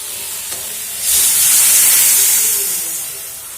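Water poured onto hot fried spices in a pan bursts into a loud hissing sizzle that swells quickly, holds for a second or two, then gradually fades, with no talk over it.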